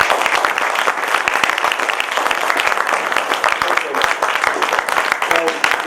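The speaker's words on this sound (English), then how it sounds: "I think we all need to give him a loud round of applause" Loud, sustained applause for a speaker at a business book presentation in Pune, many hands clapping densely and evenly close by, with voices murmuring underneath throughout.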